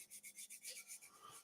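A woodturned piece is hand-sanded along the grain, a soft rhythmic rubbing in repeated quick strokes, faint and close with no talk.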